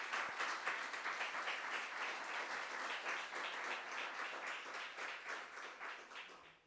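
Congregation at an evangelical church service applauding as an offering to God, a dense, steady wash of many hands clapping that carries through the whole stretch and tapers off at the end.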